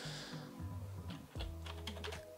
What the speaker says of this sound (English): Keyboard's not working with numlock or anything